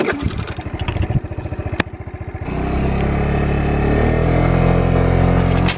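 A moped ridden along a road in Hawaii: a close, loud small engine chugging in rapid pulses, then revving up into a steady, strained drone as it accelerates.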